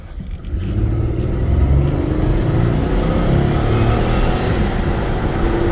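A 1999 Ford Taurus with the 3.0-litre Vulcan V6 driving along, its engine giving a steady, close mid-pitched rumble with road noise that holds at an even level throughout, no voices.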